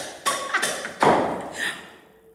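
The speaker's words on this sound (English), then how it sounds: "Suddenly they're banging on our house." Banging on the wall of a house in Merida, Mexico: four loud, close thuds at uneven intervals, the third heaviest, each trailing off into a short, booming decay.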